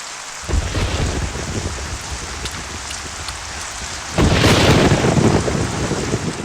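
A thunderstorm with heavy rain outside: a steady downpour roars continuously, and a loud thunder crack bursts in partway through before the rain carries on.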